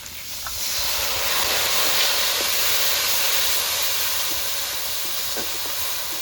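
A little water hitting frying spice masala for ghugni sets off a loud, steady sizzling hiss that swells in the first second and keeps going without a break.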